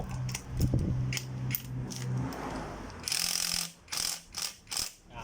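A ratchet wrench with a 14 mm socket tightens a bolt on a Honda Wave 110i motorcycle during a timing chain replacement, giving several rapid bursts of close, crisp pawl clicks.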